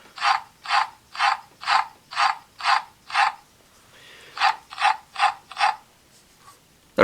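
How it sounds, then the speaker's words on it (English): Small rasping flutters from a CSM Tatsulot toy (Masked Rider Kiva) as its wings are moved up and down: eight evenly paced strokes, a short pause, then four more, close and fairly quiet. "if you move them up and down, you get a little wing flapping sound"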